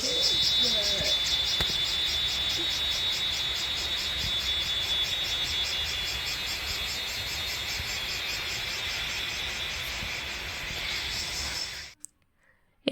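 Crickets chirp steadily at night in dense forest around a jungle eco-tourism resort in Kalimpong, forming a loud, continuous high-pitched drone that cuts off abruptly near the end.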